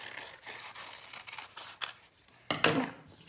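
Scissors cutting a drawn circle out of paper for a fourth-grade collage, a series of soft snips followed by a louder, crisp double cut near the end, quiet and close with no talking.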